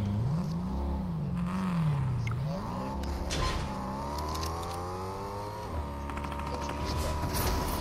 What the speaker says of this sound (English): It's a car, don't let it see us.